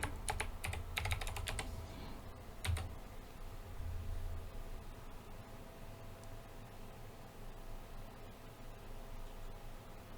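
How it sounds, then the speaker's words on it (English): Fingers tap on a computer keyboard in a few quick, light flurries of clicks near the start, then the room falls to a quiet background hiss. "I can't type."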